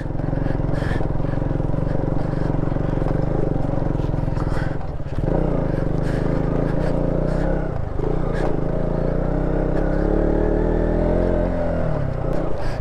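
KTM Duke 200 motorcycle riding over a snowy mountain road in Zanskar, Ladakh, its engine droning loudly and steadily with revving and clattering, a brief dip midway and some talk over it.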